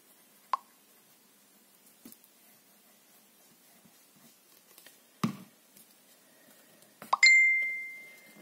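A phone notification chime goes off during a scrapbook album crafting session. A single bright, ringing ding sounds near the end and decays slowly, following a few soft taps and plops, with no talk.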